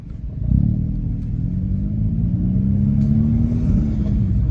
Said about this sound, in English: We got a very nice classic car backing up into his garage.